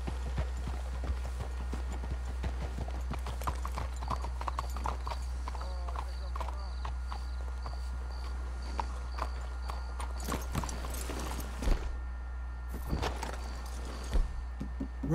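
Horse hooves clip-clop in a steady trotting rhythm at moderate distance in the video game Red Dead Redemption 2, with a low constant hum beneath and a couple of louder thuds near the end.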